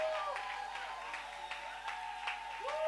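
A church congregation claps in quick, uneven bursts at a moderate distance, with a sustained tone ringing underneath the applause.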